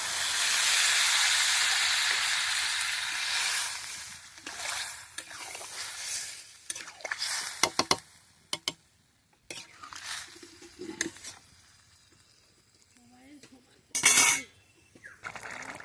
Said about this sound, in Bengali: আমি এবার এর মধ্যে জল দিয়ে দেব, দিয়ে এটা সেদ্ধ করতে দেবো।